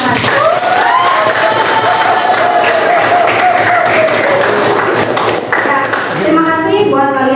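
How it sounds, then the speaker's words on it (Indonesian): Classroom applause from schoolchildren during a teacher's practice lesson, dense clapping throughout with children's voices and a sung or called-out melodic line over it, ending in a brief rhythmic chant. "Kasih tepuk tangan dulu buat kita"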